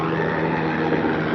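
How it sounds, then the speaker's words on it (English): A helicopter flying overhead, heard as a steady, loud droning rotor and engine rumble that fills the short stretch, with no speech over it. "Helicopter, like you can hear it in the background."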